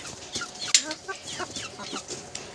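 Chickens cluck close by in short, irregular bursts, with one sharper squawk partway through.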